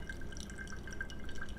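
Hot water trickles slowly onto Geisha coffee grounds in a pour-over dripper, a faint, steady thin stream with small drips, close by and quiet with no talking.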